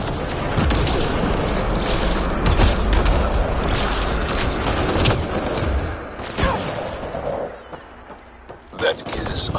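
Heavy firefight in Mass Effect Andromeda against pirates, with loud overlapping gunshots and booming bursts packed together, thinning out toward the end, while voices talk over the combat.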